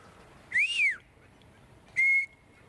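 Two clear whistling bird calls against a quiet background: first a rising-then-falling sweep, then a steady held note.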